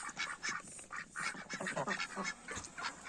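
A duck quacks repeatedly in quick, raspy bursts, fairly close, with a few overlapping calls from other fowl.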